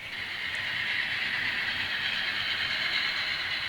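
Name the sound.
model grain train passing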